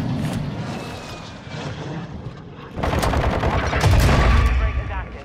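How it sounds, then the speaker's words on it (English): Gunfire exchanged during a Call of Duty match, with bursts of automatic weapon fire growing louder and denser in the second half, over a steady background rumble like aircraft engine noise. "They're shooting each other."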